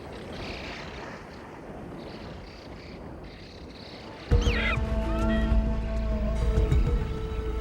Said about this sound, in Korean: 이곳에는 약 80여 종의 철새들이 지나간다